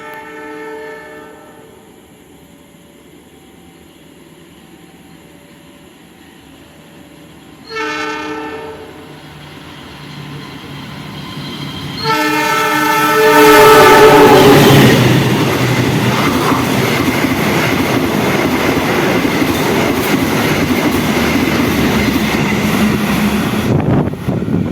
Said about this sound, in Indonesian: kereta api Lodaya tambahan rute Solo Bandung persiapan berjalan langsung di stasiun Prambun